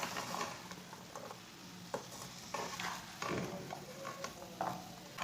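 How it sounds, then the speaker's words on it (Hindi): Noodles with boiled vegetables stirred in a pan, soft scraping and sizzling strokes at an uneven rhythm, close and fairly quiet with no talk. "उबली हुई सब्जियां डाल लेंगे। इसे ना मिक्स कर लेंगे।"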